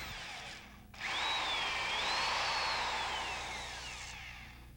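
A power drill bores a bolt hole through a RotorWay 162F helicopter clevis, guided by bushings and airframe tubes: a brief start, then one loud, sustained whine close by whose pitch wavers as it cuts, with no talking.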